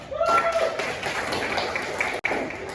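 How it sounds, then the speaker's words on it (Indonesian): A classroom of students clapping together during a teaching session, a short burst of applause heard mixed with voices, with a brief cutout near the end. "Tepuk tangan buat kita semua"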